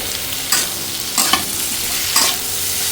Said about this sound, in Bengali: পেস্টটি হালকা ভাজা হলে পরে আলুগুলো দিয়ে দিচ্ছি গুঁড়া মশলা কাঁচামরিচ সব কিছু দিয়ে নিচ্ছি